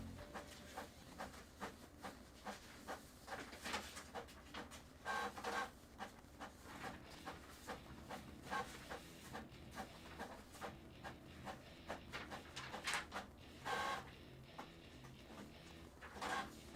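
A printer grinding and clicking through a long stretch at a trading card case break, a steady mechanical churn with repeated sharp bursts, fairly faint and without talk.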